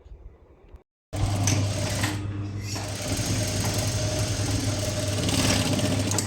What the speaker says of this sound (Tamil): ஃபஸ்ட்டு ஃப்ரண்ட்டு டாட்லேருந்து ஸ்டிச் பண்ண ஆரம்பிச்சிடலாம்